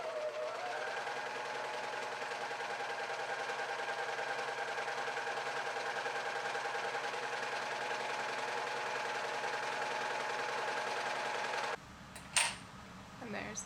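A sewing machine runs slowly and steadily while stitching a stretched lettuce hem on a top, a continuous close mechanical hum and rapid needle rhythm that stops near the end, followed by a few handling clicks.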